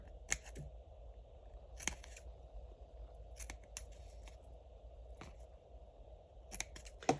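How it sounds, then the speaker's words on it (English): Scissors snip fabric around a card for a handmade vintage storybook journal, sounding as about seven crisp, isolated cuts spaced irregularly over a quiet room background. "I'm just cutting a little snip right up to the card."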